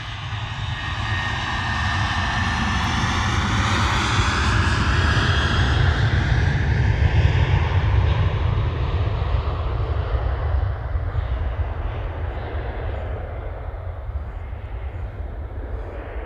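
A Ryanair jet airliner departs Manchester Airport, its engines building into a loud, broad roar that holds for many seconds, then slowly fades and thins as the aircraft climbs away.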